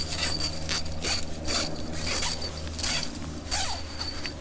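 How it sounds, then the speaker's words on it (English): A zipper on a backpacking tent's half-moon door is pulled in short, scratchy ratcheting strokes close to the microphone, with no voices. "I get this zipper done."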